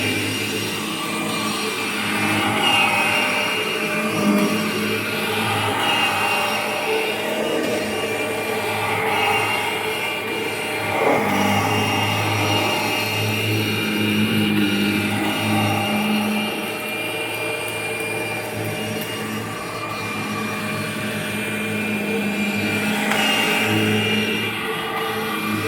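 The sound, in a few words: 1998 Kirby Generation 5 upright vacuum cleaner running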